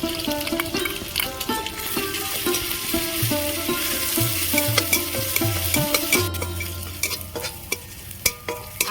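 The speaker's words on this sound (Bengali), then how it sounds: "আদা রসুন আমি ভেজে নিয়েছি" Chopped garlic and ginger fry in hot oil with a continuous close sizzle, broken by repeated scraping and stirring strokes of a spatula against the pan.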